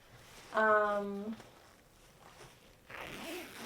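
An invisible zipper on a sewing project being zipped closed in a quiet room, one short rasping pull followed later by a softer rustle of fabric.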